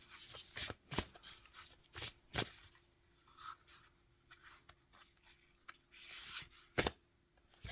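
Tarot cards are shuffled and drawn by hand, giving a sequence of close, crisp riffling snaps and soft sliding rubs, quiet and irregular, with no talking.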